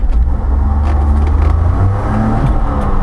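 A 1988 Honda Acty SDX kei mini truck with a carburetted engine pulling away, a loud close low engine rumble rising and settling as it drives off, no speech.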